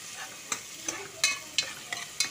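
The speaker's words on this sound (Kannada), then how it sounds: "ನೋಡಿ, ಫ್ರೈ ಆಗ್ತಿದೆ ಈಗ" Onion frying with spices in a cooker, a low steady sizzle broken by a regular series of sharp spatula scrapes and taps, close by and without speech.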